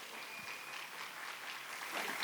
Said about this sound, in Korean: 우리 그 친구들을 위해 환영의 박수.